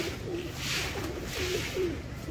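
Pigeons on a rooftop coo softly, with about four low, rolling coos spaced through a steady background hum.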